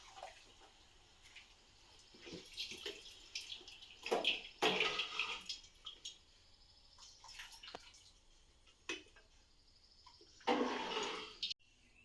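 Water trickles and splashes as freshly washed food is left to drain at home, a soft, uneven patter with a few louder gushes near the end.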